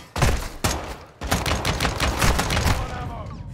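Rapid gunfire bursts from point shooting in Call of Duty: Modern Warfare II, loud and dense, with a short volley, a pause, then a sustained run of close shots that tail off into reverb.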